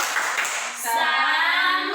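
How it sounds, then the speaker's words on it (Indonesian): Kindergarten children doing a spirit clap chant, their voices chanting together over steady rhythmic hand claps, loud and close throughout. "Oke, tepuk semangat."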